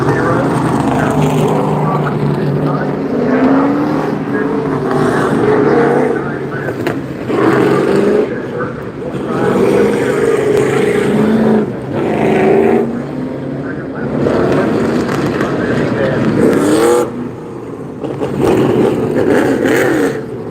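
Race cars lap the short oval at Bowman Gray Stadium in Winston-Salem, North Carolina, their engines droning and surging loudly throughout under continuous commentary.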